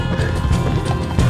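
Rapid, continuous hoofbeats of a galloping horse in the video game Red Dead Redemption 2, rumbling and close, with a faint mechanical undertone and no pauses.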